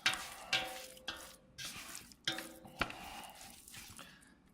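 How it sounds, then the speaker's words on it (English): Fingers working a wet sourdough starter paste in a bowl give soft, close squelching and slapping, repeated in uneven strokes several times, fairly quiet with no talking. "So all I'm doing is mixing this with my fingers."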